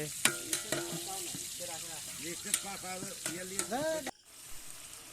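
Onions and masala fry and get stirred in a pot at an outdoor picnic, with a crackling sizzle, spatula scrapes and clacks, and voices talking over the cooking before it cuts off.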